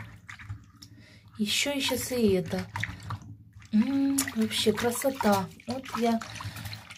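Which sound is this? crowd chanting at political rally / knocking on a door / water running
water running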